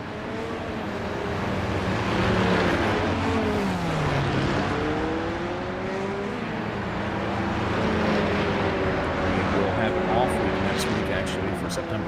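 A Porsche 911 GT3 race car laps Mid-Ohio in a racing game, its engine note climbing and falling through gear changes as other cars pass, under continuous commentary.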